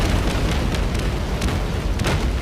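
Explosion propulsion spell in the video game Blade and Sorcery, played through a mod: a dense, loud roaring rumble with repeated muffled booming bursts across the whole stretch, no talk.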